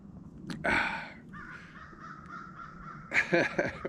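A crow caws loudly nearby, first a short harsh call, then a long drawn-out caw, then another burst of cawing, with faint background noise.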